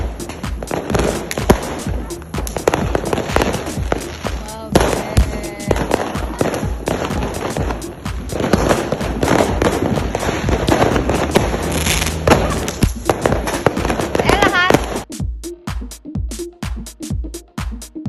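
Dense, continuous crackling and popping of New Year's Eve fireworks goes on for a long stretch, loud and close, then thins into scattered sharp pops at the end.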